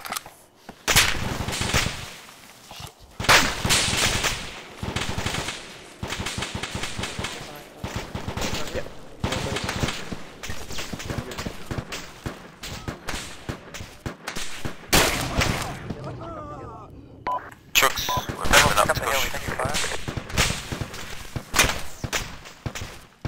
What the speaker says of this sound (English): we may be getting shot from up the hill